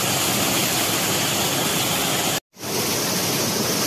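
Kalsin waterfall on the Reli river inside a jungle near Kalimpong roars as a loud, constant broadband rush, broken by one brief silent cut before the torrent resumes.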